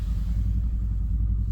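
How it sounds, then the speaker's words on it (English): A Toyota C-HR engine running right after being started, a steady, close, low rumble that holds evenly throughout with no other sounds. "you have to start the car"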